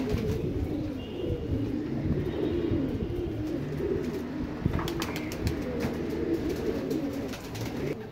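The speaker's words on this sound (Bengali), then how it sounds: "এই যে একটা জ্বালালির সাথে একটা ঝাঁক কবুতর।" A flock of Jalali pigeons flies together in a figure-of-eight pattern close by. They make a steady, dense ambient sound, and coos and low calls blend into constant background noise with no talking.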